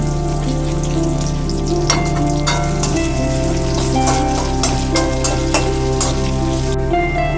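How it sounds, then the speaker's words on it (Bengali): Chopped onions and a bay leaf, with lightly crushed cloves and cardamom, fry in hot oil for mutton curry, a loud, steady crackling sizzle with scattered sharper pops, close to the pan. "তারপরে আমি এই কুচানো পেঁয়াজগুলো দিয়ে দিচ্ছি"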